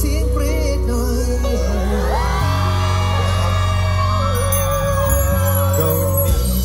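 A concert crowd at a Central Nakhon Pathom mall event screams and cheers steadily under loud live pop singing and music, the shrill whoops rising throughout.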